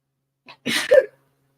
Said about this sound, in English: Sorry about the sneezing, folks.